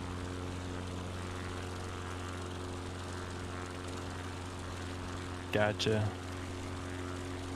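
Steady propeller aircraft engine drone from a flight simulator game, cruising low along a valley at about 6,800 feet, holding a constant tone throughout with a brief spoken word near the end.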